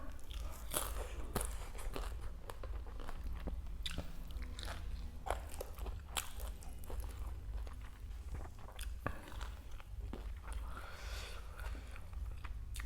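Crunchy fried fish and green papaya salad eaten with sticky rice, heard as a series of close, crisp bites and chewing crunches at an irregular pace, loud and near with no talk.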